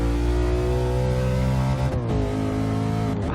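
A Lexus IS F's naturally aspirated engine accelerates hard on a race track, a loud, steady harmonic roar that dips briefly during a short shift and then climbs again.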